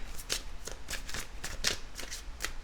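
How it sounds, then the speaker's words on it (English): Tarot cards being shuffled in a series of quick, crisp riffling bursts, roughly eight rapid ruffles close up with no talking. "I'm going to give them one good shuffle this way"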